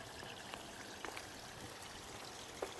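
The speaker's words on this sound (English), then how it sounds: "I've been trying to come up with a better design of this waterfall" Water from a koi pond waterfall runs and trickles steadily, a soft continuous flow with small splashes, heard alone and fairly faint.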